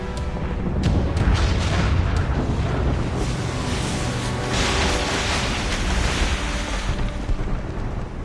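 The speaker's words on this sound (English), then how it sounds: "Man the cannons!" Ship cannon fire in the Assassin's Creed Rogue video game, heavy booming blasts rolling over a dense roar of sea and wind, loud and sustained with no talk.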